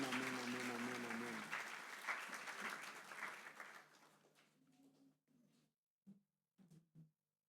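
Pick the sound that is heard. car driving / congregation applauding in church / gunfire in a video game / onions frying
congregation applauding in church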